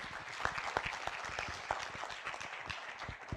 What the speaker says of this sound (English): That clap was for one person.